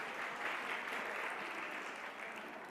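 A conference audience applauds a returning stage speaker at a community safety event, a steady wash of clapping that holds evenly and stays fairly soft and distant throughout.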